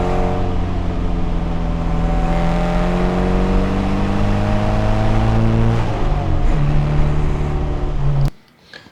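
A car's engine and exhaust drone from inside the cabin with the windows down, pitch rising smoothly through the gears under acceleration, loud and continuous, before cutting off abruptly near the end.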